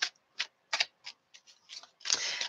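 Tarot cards shuffled close up: a series of short, crisp riffling flicks at uneven intervals, ending in a longer, denser riffle, with no talking.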